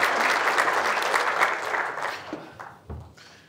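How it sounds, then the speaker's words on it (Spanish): An audience claps to welcome a speaker at a large event, a dense, steady applause that holds for a few seconds before thinning into scattered claps and a muffled thump. "Recibamos con un fuerte aplauso a nuestro expositor"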